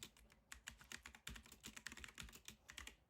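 Rapid typing on a computer keyboard, close and crisp, with uneven bursts of keystrokes and no talking.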